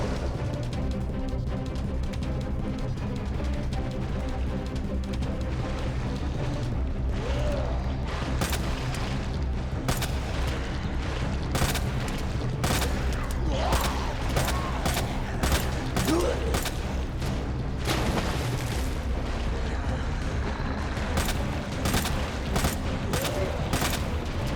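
Gunfire against enemies in Resident Evil 2 Remake, a long run of sharp shots fired one after another in irregular bursts over a dense, steady game backdrop with occasional talk.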